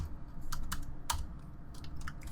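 Keys tapped on a computer keyboard in a few quick separate clicks with short gaps, close by and distinct over a quiet room background, with no voices.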